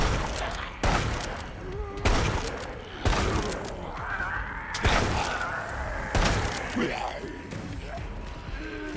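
Heavy weapon fire in the Resident Evil Resistance game, with repeated loud booming bursts at intervals and game voices and effects layered between them.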